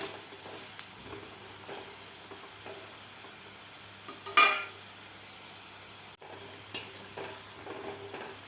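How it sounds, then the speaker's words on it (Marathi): Coconut-filled modaks deep-frying in hot oil over a medium gas flame give a steady, low sizzle, with a brief louder bubbling burst partway through and a few soft stirring clinks. "मीडियम गॅसवर तळल्यामुळे हे कुरकुरीत होतात"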